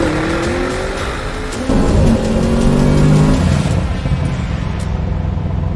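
Audi RS7 with RS tuning launching hard, a loud, close engine roar climbing steadily through the revs with rising pitch and swelling intensity, holding strong before easing slightly near the end.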